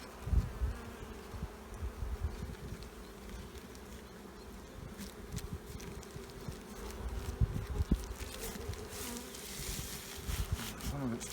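Honeybees buzz around an open beehive during an early-season inspection, a soft, continuous hum with brief louder swells as individual bees pass close.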